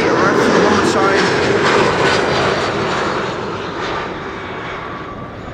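An Eastern Airways Embraer 170 airliner arriving to land makes a loud, broad jet roar that holds steady and then slowly fades as it passes.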